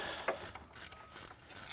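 A ratchet clicks in quick bursts while bolting parts during an RB26 engine conversion on a 240Z, with short sharp pawl ticks separated by pauses, close and fairly quiet, with no talk.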